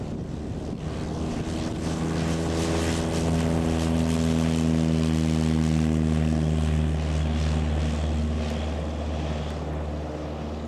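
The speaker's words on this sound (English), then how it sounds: "He's off very quickly indeed this time. Beautiful takeoff." Piper Cherokee 150 light aircraft on takeoff, its propeller engine droning loud and steady at close range with a slowly shifting tone as power builds.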